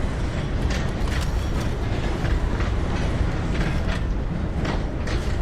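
A train in Red Dead Online rolls along the tracks with a loud, continuous broadband rumble and steady rhythmic clatter of wheels, heard close and alone.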